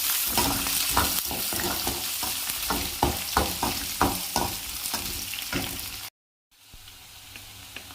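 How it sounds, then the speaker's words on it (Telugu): Chana dal, curry leaves and dried red chillies crackle and sizzle in hot oil, with repeated rhythmic scraping of a spoon stirring the pan, then a short silence before quieter sizzling resumes. "శనగబ్యాళ్ళు కొద్దిగా, కరివేపాకు, ఎండుమిర్చి బాగా ఫ్రై చేసుకోవాలి ఫ్రెండ్స్"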